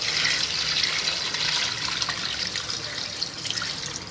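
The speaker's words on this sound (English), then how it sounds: "I'm adding 8 glasses of water to it." Water poured from a glass into a pot of rice for chicken majboos, a continuous loud splashing pour lasting several seconds, close and alone without talk.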